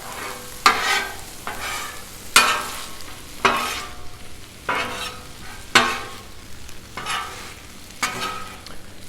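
Cheesesteak meat and veggies on a Blackstone griddle: a steady sizzle broken by repeated scraping, stirring strokes of a spatula, roughly every second or so, close and fairly loud with no talk.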